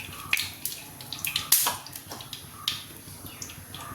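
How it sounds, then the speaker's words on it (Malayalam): Eggplant pieces frying lightly in oil in a pan, giving scattered crackles and sizzling pops over a soft hiss, close and moderately loud, with no talking. "ചെറുതായിട്ടൊന്ന് എണ്ണയിലൊന്ന് വാട്ടിയെടുക്കാം."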